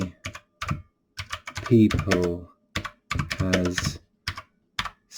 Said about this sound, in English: sorry about the one-handed typing